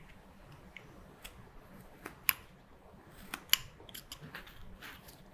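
A carving knife slicing into wood during flat plane woodcarving, with quiet scraping strokes and a few sharp, crisp snips of the blade, close and faint, no talking.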